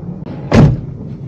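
A car door opens and shuts as someone steps out of the vehicle, one short, loud thud standing out over a low steady background hum.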